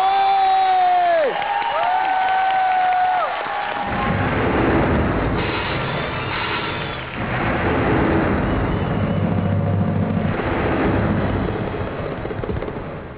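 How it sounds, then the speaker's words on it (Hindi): Studio audience at an Indian TV comedy show cheers and claps for a young comedian from Chandigarh. Swooping electronic effect tones open, then a loud, sustained crowd roar with clapping and drumming follows. "जोरदार तालियां उनके लिए"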